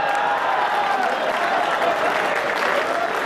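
Sustained applause from the audience at a Hindi poetry gathering, a kavi sammelan at the Red Fort, steady and dense throughout with a faint voice audible beneath the clapping.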